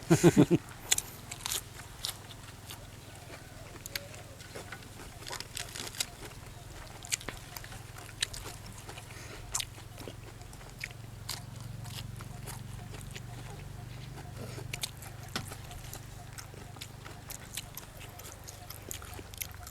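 Steamed lobster being bitten and chewed, giving close, irregular crunchy bites and soft mastication noises that run throughout, with occasional faint background voices.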